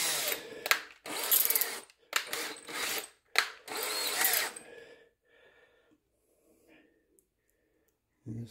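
A power drill fitted with a Phillips bit drives screws into a Pitbull Guitars Explorer guitar kit, giving several short, close whirring bursts with brief pauses before the motor falls quiet.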